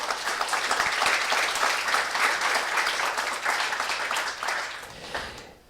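A church congregation applauds together during a sermon, dense steady clapping at full strength throughout, easing off in the final moment.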